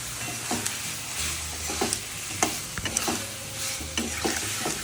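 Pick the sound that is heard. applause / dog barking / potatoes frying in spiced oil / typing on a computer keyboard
potatoes frying in spiced oil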